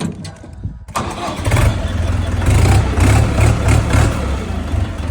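A Scout mini tractor of 40 to 50 horsepower starts up after a short lull and settles into a loud, steady diesel-like rumble while driving, close by and throbbing unevenly.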